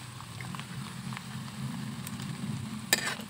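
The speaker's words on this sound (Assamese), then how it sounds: "কেৰাহীত পিঁয়াজ দিলোঁ পিঁয়াজখিনি অকণমান কালাৰ উঠিব দিম" Onions fry in a wok, giving a soft, steady sizzle with light crackle under a low background rumble and one sharp clink near the end.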